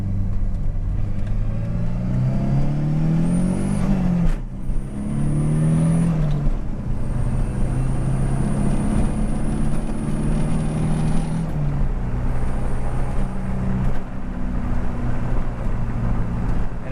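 A Volvo 240 with a swapped-in T5 turbo engine pulls hard on a test drive, its deep engine drone rising and falling through revs with a thin turbo whistle above, loud and close throughout.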